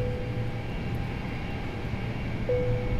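An airliner powering up in Microsoft Flight Simulator, a steady low hum of aircraft systems and engine noise with a faint tone that steps up late, constant and alone.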